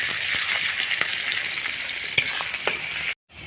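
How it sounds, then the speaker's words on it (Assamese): Onions frying in hot oil in a pan, a dense continuous sizzle with occasional faint stirring ticks, close and steady, cutting off abruptly near the end before resuming quietly. "এনেদৰে আপোনালোকে পিঁয়াজখিনি অলপ টাইম ফ্ৰাই কৰি থাকিব লাগিব"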